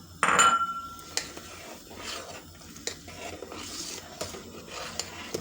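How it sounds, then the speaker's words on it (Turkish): Noodles drop into a pot of boiling chicken broth with a clatter, then a utensil scrapes and stirs against the metal amid a soft bubbling background. "Tavuk suyum kaynadı. Güzelce kaynıyor. Hemen kesme çorbamı ilave ediyorum."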